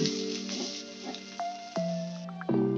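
Bay leaf, dried red chillies and asafoetida sizzle steadily in hot oil, a continuous close frying hiss with brief crackles and small stir noises while a cabbage ghonto is being cooked.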